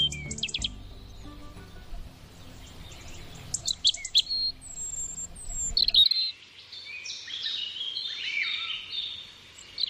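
A small robin and other birds sing in holm oak woodland, with high chirps and trills scattered throughout, first over a faint low hum and then in quieter open air.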